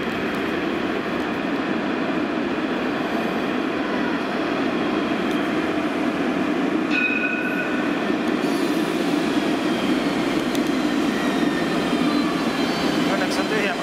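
A metro train runs in Monaco with a loud, continuous rumbling roar of wheels and carriage that holds steady throughout, with faint voices in the background.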